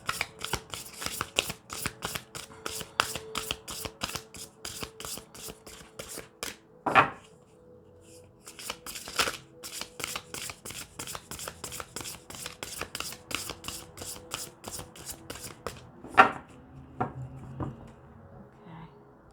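A deck of tarot cards is shuffled close up, producing rapid riffling and flicking bursts broken by a couple of sharp taps, with quiet pauses between rounds.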